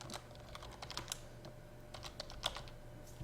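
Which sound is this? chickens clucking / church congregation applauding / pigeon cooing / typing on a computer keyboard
typing on a computer keyboard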